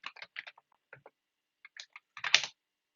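Scattered bursts of keyboard typing nearby, a few clustered keystrokes with short pauses, finishing with a louder cluster of clacks.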